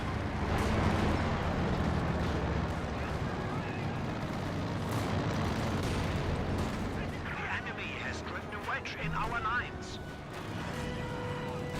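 Katyusha rocket barrage explosions in the World War II strategy game Company of Heroes 2 rumble as dense, continuous booms and gunfire, with a commentator talking over them throughout.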